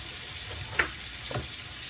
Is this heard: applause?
no